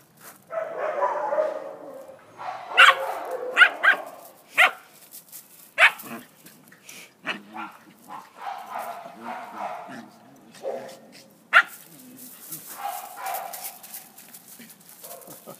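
A three-month-old Belgian Shepherd puppy yaps in short, scattered barks and yips, fairly close, with people talking quietly between them.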